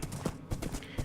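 Faint, rhythmic clip-clop of horse hooves as a rider rides off, quick evenly spaced strikes with a faint voice in the background.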